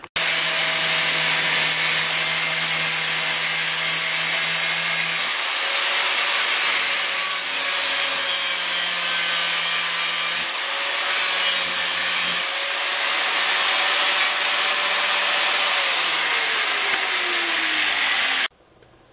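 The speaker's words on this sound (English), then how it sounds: "I opted to just grind this wrench down." A wrench is ground down with a power grinder during suspension brace installation on a vehicle, a loud continuous abrasive whine with a steady motor tone that dips slightly under load, running nonstop before cutting off.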